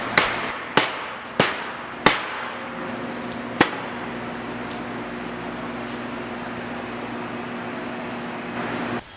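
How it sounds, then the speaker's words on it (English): Several sharp soft-blow hammer taps driving a poly bushing into a rear axle housing, spaced irregularly at first then a final blow, over a steady background hum of machinery. "reinstall the bushing into the housing using the soft blow hammer"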